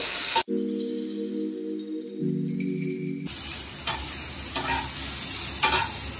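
Nigella seeds dropped into hot oil for a pabda fish dish, a sudden crackling sizzle that starts after a few seconds of sustained electronic tones and carries on close with occasional stirring knocks.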